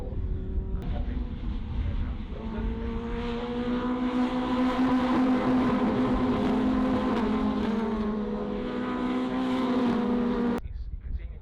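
Caterham race cars battle at Snetterton circuit, a sustained, droning engine howl holding steady under the race with a voice speaking over it.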